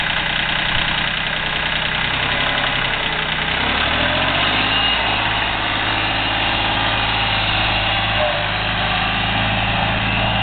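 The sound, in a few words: Yanmar 226D compact 4WD tractor engine running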